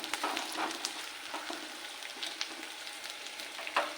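Onions frying with curry leaves in a pan, a soft continuous sizzle with scattered crackles and pops, close but quiet, with no talk.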